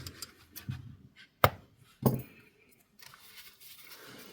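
Two crisp snips of scissors cutting yarn after tying off a crocheted amigurumi Santa, close and distinct, separated by quiet handling rustle.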